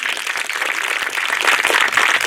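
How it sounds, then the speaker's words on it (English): An elementary school groundbreaking audience applauds the maintenance team in a dense, sustained wash of many hands clapping. The applause is loud and steady and grows slightly stronger toward the end, with no voices. "So please, a big round of applause for our"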